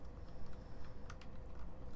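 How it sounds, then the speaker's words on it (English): A computer keyboard is typed on in a quiet room, a few scattered soft key clicks that come close together over a faint background hiss. "strange to be typing vertically like that"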